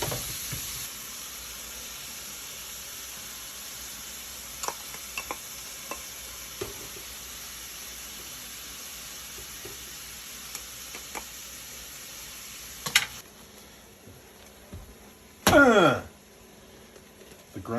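80/20 ground beef sizzles steadily in a hot pan, a constant crackling hiss dotted with small pops, followed by a brief scraping stir near the end.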